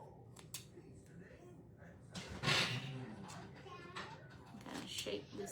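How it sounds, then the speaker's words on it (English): Scissors cutting a burlap gift bag, a few close crisp snips and a brief rasping cut through coarse fabric, alongside handling noise and a low hum. "I think we're gonna cut just a little bit off the top here."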